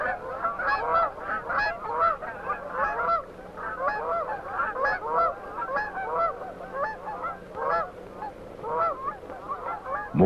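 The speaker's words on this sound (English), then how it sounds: "These are dusky geese." Flock of dusky Canada geese honking continuously, many overlapping nasal calls in a busy chorus that swells and fades, fairly close and with no voices.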